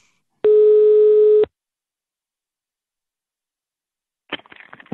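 Single long steady telephone ring tone sounding for about a second during a phone call, followed by silence and then a brief crackly burst of line noise.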